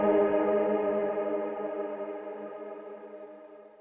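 Three violins blended with a male choir sustain a single drawn-out chord, drenched in reverb with added distortion and compression, fading gradually over a few seconds.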